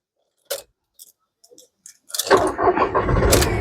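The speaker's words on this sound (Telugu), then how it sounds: "ఈ కారు సింగిల్ సెల్ఫ్ లో స్టార్ట్ అవుతుందా లేదా అన్న చూపిస్తున్నాను" A 2013/14 Volkswagen Polo Comfortline starts on a single crank: a few quiet clicks and key sounds come first, then the engine catches and settles into a steady close idle.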